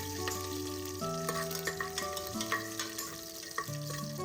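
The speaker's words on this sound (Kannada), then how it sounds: "ಇವಾಗ ಎಣ್ಣೆ ಬಿಸಿ ಆದಮೇಲೆ ಅರ್ಧ ಸ್ಪೂನ್ ಜೀರಿಗೆ, 3-4 ಬೆಳ್ಳುಳ್ಳಿ ಆ್ಯಂಡ್ ಕರಿಬೇವಿನ ಸೊಪ್ಪನ್ನ ಹಾಕೊತಾ ಇದ್ದೀನಿ ಸ್ವಲ್ಪ." Cumin, garlic and curry leaves sizzle in hot oil, a steady crackle broken by sharp clicks of a spoon stirring the pan, with quiet tonal music playing underneath.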